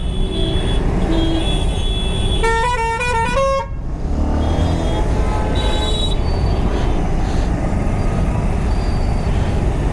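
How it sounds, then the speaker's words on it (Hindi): A car horn blares in a sustained honk for about a second over constant loud traffic rumble, then the engine noise carries on, heard while riding a Bajaj Pulsar 150 Twin Disc motorcycle. "हॉर्न ही बजा के छोड़ दिया।"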